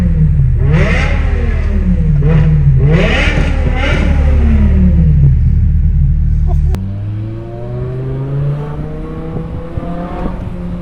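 BMW M5 with an aftermarket valved exhaust and front mount intakes accelerating hard, loud rising engine revs through several gear pulls, then a drop to a steadier lower drone as it settles into cruising.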